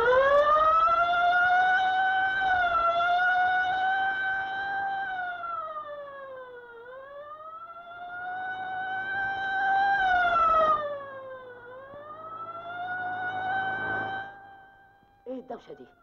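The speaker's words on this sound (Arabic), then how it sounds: "ده صوت بوليس النجده" Wailing siren of an Egyptian police emergency vehicle in a film scene, a loud, steady rising and falling tone that swells and dips for about fifteen seconds before cutting off with a few short noises at the end.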